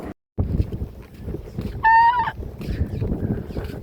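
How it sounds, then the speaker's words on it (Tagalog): Birds calling near a small fishing boat at sea, one short honking call stands out briefly over steady engine and water noise. "Ay, mga ibon. Bird, bird."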